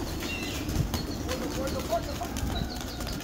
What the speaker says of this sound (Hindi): सभी कबूतर जाल से बाहर आते हुए